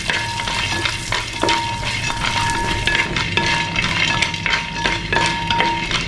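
Cashews, roasted gram and raisins roast together in a pan, giving a continuous close sizzle broken by frequent scraping strokes and light metallic clinks of a spoon against the pan.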